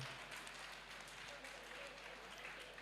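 An audience applauds after a sitar and tabla performance at a live cultural programme on stage, dense continuous clapping filling the hall and holding steady throughout.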